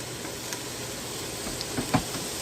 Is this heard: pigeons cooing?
no